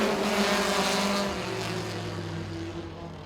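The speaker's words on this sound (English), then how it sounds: "Green flag flies, and we're championship racing." A pack of race cars roars off at the start of a championship race at Baer Field Motorsports Park, engines loud and close, with rising revs that ease off as the field pulls away.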